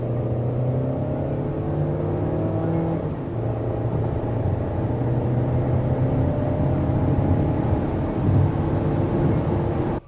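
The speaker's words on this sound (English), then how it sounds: "let's check out how this car accelerates, how this petrol automatic accelerates" Petrol automatic engine of a 2021 Mahindra XUV700 accelerating hard from a standstill, a steady loud drone rising in pitch through the run with brief shift dips, heard alone without talk.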